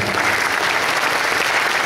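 An audience at a national seminar applauds steadily, with dense, even clapping sustained for the whole short stretch and no voices over it.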